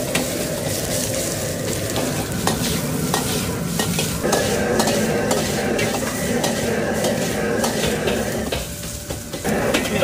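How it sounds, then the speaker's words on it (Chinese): Dried chili peppers dry-fry in a wok with a steady crackling sizzle, while a metal spatula scrapes and clatters against the pan in quick, repeated close strokes throughout. "先把尖椒干煸一下"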